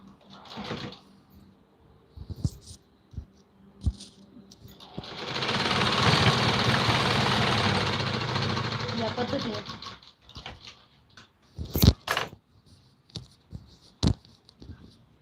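A sewing machine stitches a folded seat panel of a Patiala salwar in a steady run of about five seconds, with faint handling knocks and clicks before and after.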